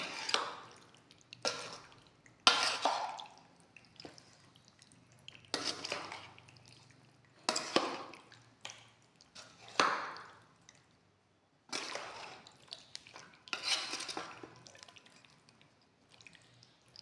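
Wet, sticky stirring and clinking of mango pickle being mixed in a pot, heard as irregular bursts of squelching and scraping with short pauses between them, fairly close and with no talking.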